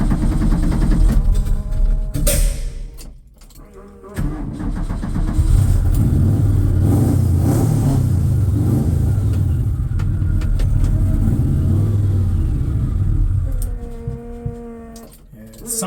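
Lifted VW Beetle Baja engine running rough on old fuel: a loud, close mid-pitched engine rumble that surges and dips, with brief drops near the start and a steady run through the middle, under a few mechanical clunks.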